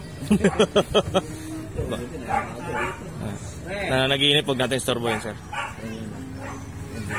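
A stray dog in a village street gives a few short barks and yips near the start, then softer whimpers under ongoing conversation between several people.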